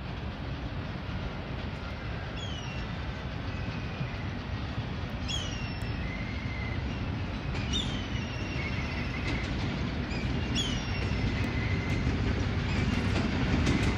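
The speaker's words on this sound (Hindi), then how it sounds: "17 मिलत एक्सप्रेस मंडी बहाउद्दीन रेलवे स्टेशन पर अप्रोच बना रही है।" The Millat Express approaches Mandi Bahauddin railway station in a loud, continuous rumble of wheels on track. Repeated high squeals from the rails or brakes come through at intervals, and no voices are heard.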